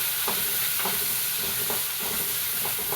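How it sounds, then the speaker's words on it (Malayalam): Shallots and six or seven garlic cloves sauté in hot oil in a pan, giving a loud, constant sizzling hiss broken by rhythmic spatula scrapes about every half second. "ചുവന്നുള്ളിയും ഒരു 6-7 വെളുത്തുള്ളിയും ഇട്ട് കൊടുക്കാം. ഇതൊന്ന് നന്നായിട്ടൊന്ന് വഴറ്റിയെടുക്കാം."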